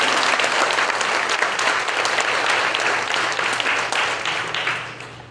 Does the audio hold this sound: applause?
yes